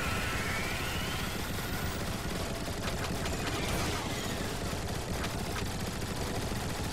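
Dense, rapid gunfire from the video game Transformers: War for Cybertron rattles on without pause. Bursts of shots overlap in a loud, chaotic stream.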